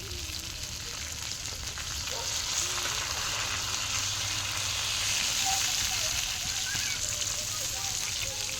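Food fries in a hot pan, a steady close sizzle and crackle of oil running continuously, with faint voices in the background.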